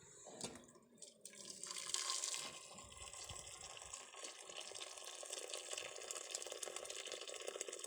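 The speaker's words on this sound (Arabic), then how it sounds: "ها احنا نديرو الماء" Water pours into a soup pot set over a wood fire outdoors, a close splashing gush after a few knocks, then a steady running trickle with no talking.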